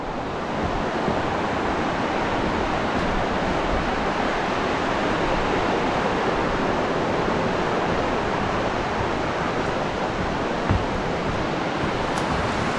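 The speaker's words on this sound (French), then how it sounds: "c'est plutôt plaisant comme bruit de marcher à côté d'un cours d'eau" A fast-flowing stream with a large volume of water near Lake St Clair, Australia, making a continuous, even rushing roar that stays at a steady level with no voices.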